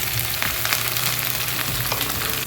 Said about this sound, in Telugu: ఇప్పుడు పేస్ట్ దీంట్లో వేసేస్తున్నాను కదా, అది ఫ్రై చేస్తున్నాను